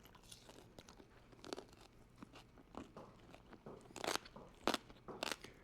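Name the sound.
crunching bite of air-fried crispy pork belly crackling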